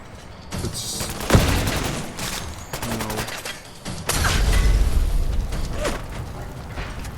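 Repeated gunshots in Fallout 4, a burst of rapid shots mixed with game sounds and a louder low boom midway, moderately loud with brief voice in the background.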